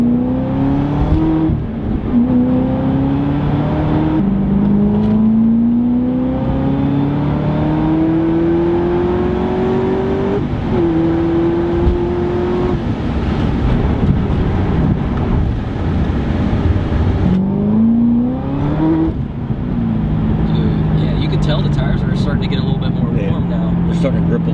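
A Chevrolet car drives and accelerates, its engine note rising in repeated climbing sweeps with gear changes, steady road and wind noise throughout, while people talk over it.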